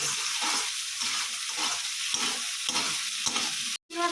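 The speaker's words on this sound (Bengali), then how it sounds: "হলুদ দিয়ে চিংড়ি মাছটা ভালো করে ভেজে নেবো।" Shrimp frying with turmeric in a pan, crackling steadily as a spatula stirs in repeated strokes, close and continuous, with a brief gap near the end.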